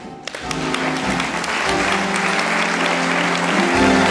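An evening anniversary celebration for Initiative Savoie fills with audience applause, a dense roar of clapping that builds within the first half second and stays loud and steady, with music-like tones faintly underneath.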